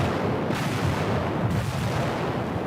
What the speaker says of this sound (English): The relentless bombardment from their 16-inch guns helped pave the way